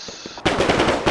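Gunfire in the ArmA III Vietnam War campaign: a quiet stretch of faint thumps breaks into a dense, loud burst of rapid automatic shots that runs on to the end.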